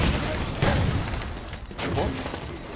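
Gunfire in a Halo 5 custom game, several sharp shots and bursts over a couple of seconds, loud and close, with a player's voice talking over the action.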